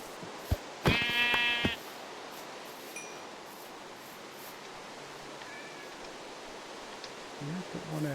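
A Minecraft sheep bleats once, a short harmonic bleat standing out clearly over a quiet hiss of game ambience, with a faint low rustle near the end.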